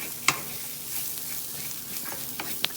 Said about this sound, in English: you got to keep stirring this so it everything mixes in slowly